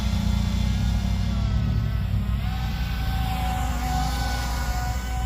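A SCI FI SKY drone hovers in drone mode, a steady low motor drone with a thin high whine running continuously and loud, with no pauses or voices.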